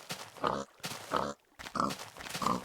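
A Minecraft pig oinks and grunts four times in close succession, loud and near, with short pauses between the nasal calls.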